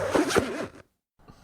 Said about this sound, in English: Zipper down.